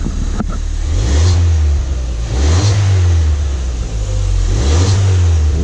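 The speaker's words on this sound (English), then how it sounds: "Let's give him a little rev. Oh, the exhaust sounds nice." A crashed Ford Fiesta ST fitted with a sport exhaust revs three times in quick succession, each loud blip rising and falling back to idle, close by with no talking.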